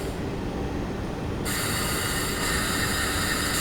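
A long train in Train Sim 2014 rolls along at speed, giving a continuous rumbling clatter with a brighter metallic hiss of wheels and rails that swells midway and stays steady, with no voices.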